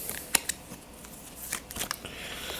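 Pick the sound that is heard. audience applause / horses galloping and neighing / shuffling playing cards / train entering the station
shuffling playing cards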